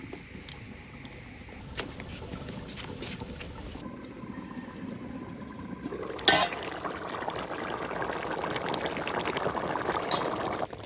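Water goes into a cooking pot of braised radish dal, a faint continuous liquid wash with a sharper splash partway through before a fuller, steadier pour.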